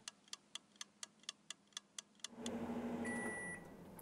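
Microwave oven heating bean dip: steady, regular ticking of the timer dial, then the oven's louder hum and whir kicks in, with a short beep tone near the end.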